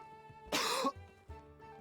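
A single sharp cough bursts out for under half a second, fairly close, over a steady backdrop of sustained musical tones, followed by a faint softer sound.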